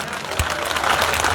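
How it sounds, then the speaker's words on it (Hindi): Crowd at a village political rally breaking into sustained applause, a dense wash of clapping that swells and holds steady throughout, loud and close. "जबरदस्त तालियां एक बार इनके लिए"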